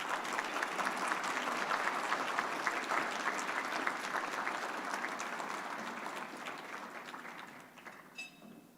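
An audience claps warmly to welcome an ambassador-level dignitary to the stage at a 40th anniversary event, a dense, sustained round of applause that slowly thins and fades toward the end.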